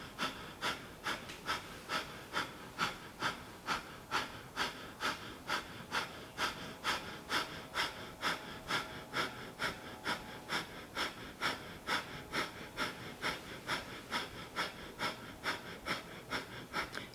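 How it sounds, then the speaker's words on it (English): Breath of fire during a Kundalini yoga class: rapid, rhythmic nasal breathing with sharp, evenly spaced exhalations roughly twice per second, continuing steadily and close to the microphone. "Breath of fire if you like."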